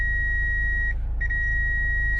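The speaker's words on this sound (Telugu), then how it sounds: "సో ఇట్లా కంటిన్యూస్గా బీప్ సౌండ్ వస్తే చాలా ఆబ్జెక్ట్ అనేది చాలా క్లోజ్గా ఉన్నట్టు." Reverse parking sensor on a 2021 Kia Sonet HTX 1.5 diesel gives a steady, continuous high-pitched beep, nearly unbroken with one short gap, signalling an obstacle very close behind, over low engine hum with no talk.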